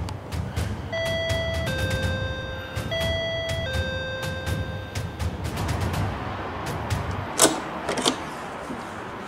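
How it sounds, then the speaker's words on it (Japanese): A two-tone electronic doorbell chime rings twice in a row, clear and close, followed by faint rustling and a couple of soft knocks. "早速ピンポン鳴らしていきたいと思います。"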